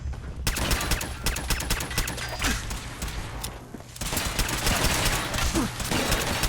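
Rapid automatic gunfire and volleys of shots in Fallout 4, a dense, loud barrage of overlapping bursts that carries on throughout with brief lulls.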